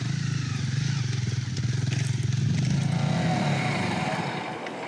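A Honda CRF250 Rally motorcycle rides off-road, its engine buzzing steadily and rising in pitch as it revs, loud and close, with rattling and wind noise and no talk.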